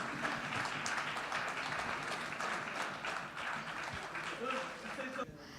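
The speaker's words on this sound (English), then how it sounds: "Ladies and gentlemen, let's have a round of applause, please" Audience applause at an art press conference in Delhi, a broad continuous patter of many hands that stays fairly even and moderately distant, fading slightly at the very end.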